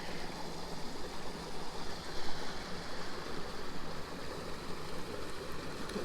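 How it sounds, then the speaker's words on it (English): Steady churning rush of stream water, close and continuous, with no voices. "you can sit in this little area and the water churns"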